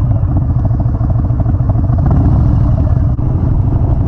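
Harley-Davidson motorcycle with an aftermarket muffler idling close by, a steady loud low rumbling throb with uneven clattering pulses throughout, no voices.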